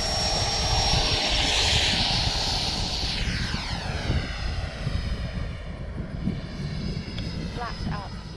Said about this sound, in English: Let's get this second Avanti flight in the air.